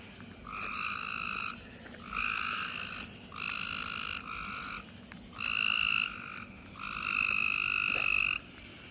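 Frogs croak in loud, buzzing bursts near a large parking lot in Danville, about half a dozen calls rising and pausing in turn, with a faint hum of night behind them.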